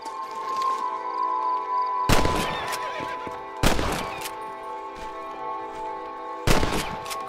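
Gunshots in a Red Dead Redemption shooting contest, three sharp, loud reports spaced a second or more apart over a steady musical or ambient drone, each with a short decaying tail.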